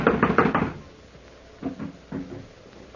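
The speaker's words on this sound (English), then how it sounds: "I'm going to knock." Knocking on a locked door in an old-time radio drama: four quick, firm raps up front, then a pause and two softer, muffled thuds.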